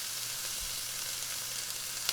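Shrimp frying in a pan for keto fried rice, giving a steady, close sizzle with a dense crackling hiss throughout and a single brief pop near the end.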